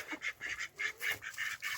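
Ducks quack in a rapid, repeated series of nasal calls, close by and fairly loud, with brief gaps between bursts.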